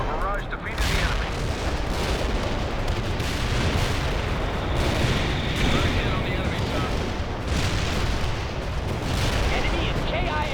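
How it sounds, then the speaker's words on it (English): An artillery barrage pounds away in World in Conflict, a continuous loud roll of overlapping blasts, booms and gunfire that never lets up, with radio-style voices talking over it at times. "Our barrage defeated the enemy."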